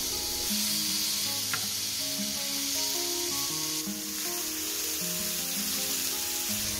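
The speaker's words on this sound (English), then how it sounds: "Place the peaches on the grill." Peaches sear on a hot cast iron grill with a steady, even sizzle that continues throughout, heard alongside background music and with no one talking.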